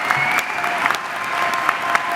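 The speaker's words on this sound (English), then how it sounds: "Can we get a huge round of applause for our graduates?" Loud, sustained applause from a large commencement crowd honoring pharmacy graduates, dense clapping throughout with a few sharper claps standing out.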